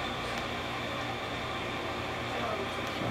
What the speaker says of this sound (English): that noise you hear in the background is an air conditioning condenser fan that needs new bearings